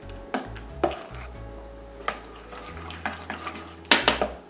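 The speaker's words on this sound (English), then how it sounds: "And we're gonna stir this until it's nice and combined." Spoon stirring dog treat dough of egg and peanut butter in a bowl, giving repeated close clinks and scrapes against the bowl in an uneven rhythm, with quiet gaps between strokes.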